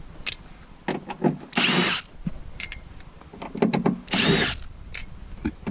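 Power drill spinning out bolts holding a speaker in the door panel of a first-generation DSM Laser, Talon or Eclipse: two loud, sustained whirring bursts among smaller clicks and handling knocks, close by, with no speech.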